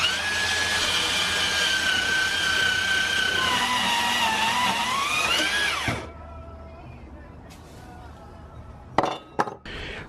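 A power tool cuts through a metal exhaust test pipe from a turbo kit, whining steadily with shifting pitch for about six seconds, then stops, followed by a few sharp metallic clinks.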